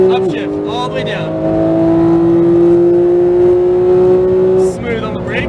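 Porsche 911 GT3 991.2 flat-six pulling hard out of a corner on the Exotics Racing track in Las Vegas, a loud steady engine note rising under load, then dropping sharply near the end as if at a shift.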